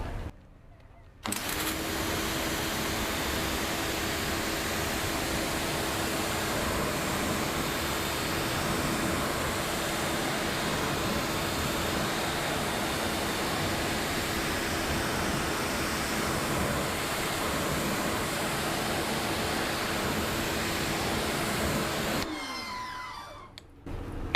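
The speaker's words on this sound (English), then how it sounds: "So before this dries, I'm going to go ahead and give it a rinse off." Steady broadband hiss of a water rinse sprayed over a car wheel after applying a wheel and tyre cleaner, continuous and loud for about twenty seconds before cutting off abruptly.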